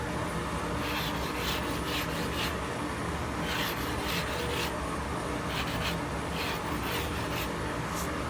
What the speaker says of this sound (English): When you use your rubbing block, turn them. If you leave it one direction, it'll cut a trench in it.